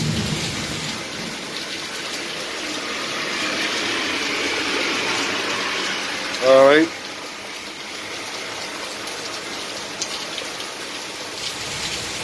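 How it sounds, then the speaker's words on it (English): Steady rain falling during a shower with thunderstorms around, a continuous hiss of drops on surfaces, with a brief spoken remark partway through. "gonna be a rainy day today"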